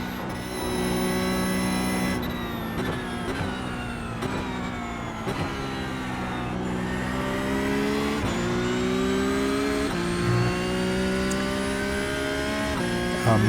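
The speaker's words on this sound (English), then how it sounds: "you see here that 6th gear, the whine of the gearbox" Porsche 911 GT3 Cup (992) race car in iRacing, engine held loud and steady in sixth gear with a high, rising gearbox whine, broken by a few quick shifts, continuous and close throughout.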